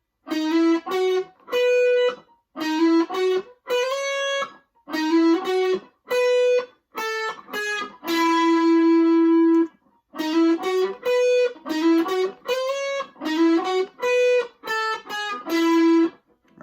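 Slow distorted electric guitar riff with a processed, effected tone, single notes picked and hammered one at a time with short gaps, played alone.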